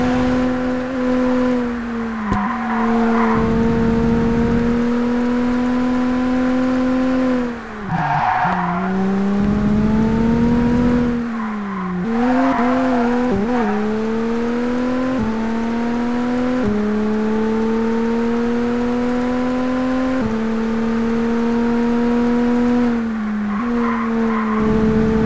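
A race car at Kyalami in TOCA Race Driver 2 howls loudly and continuously, its engine pitch rising and dropping through gear changes and corners, with tire squeals as it brakes and turns.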